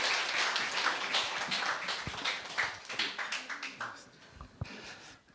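Audience at a Korean lecture hall clapping for an arriving professor, a dense burst of applause that thins into scattered individual claps toward the end.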